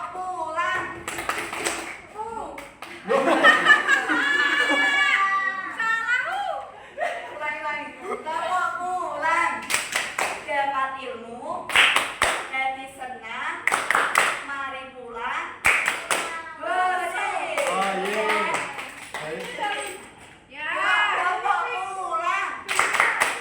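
Children in a classroom chant a rhythmic goodbye clapping routine at the end of a lesson, sharp hand claps falling in a steady beat between bursts of young voices singing and calling out together.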